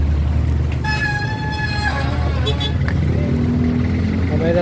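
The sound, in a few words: street traffic with car horns honking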